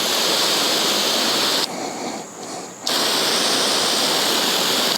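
A garden hose nozzle on its jet setting sprays water in a steady, loud hiss that briefly drops and thins partway through, then returns at full strength.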